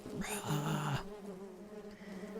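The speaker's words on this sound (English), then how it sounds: "we're ending with a bunch of bees" A dense, droning buzz of bees in a song, with a brief higher tonal swell at the start before settling into a quieter hum.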